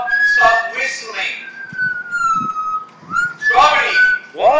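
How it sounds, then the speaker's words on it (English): A person whistling a wavering tune up close, with short talk and exclamations from others between the notes. "Dude, stop whistling."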